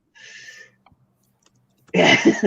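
A short, forceful burst near the end sounds like a sneeze, following a quieter breathy sound and a moment of near silence.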